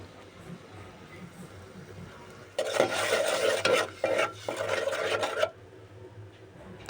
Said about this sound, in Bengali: তো এখন আমি মশলাগুলোকে ভালো করে কষিয়ে নেব